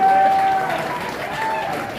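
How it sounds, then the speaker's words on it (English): Steady audience applause fills a live stand-up comedy club, loud at first and easing a little, with a voice audible through the clapping. "At least you can give me some applause"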